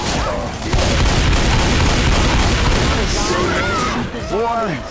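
A grenade blast in the zombie shooter Left 4 Dead 2 hits loud and close, a deep boom that rolls into sustained gunfire and rumbling chaos, with players shouting over it near the end.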